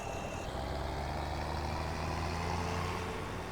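Tractor engine in Farming Simulator 2017 drives steadily with the gearbox mod off, a constant droning hum with low tonal harmonics and a few faint high tones, moderately quiet and without talk.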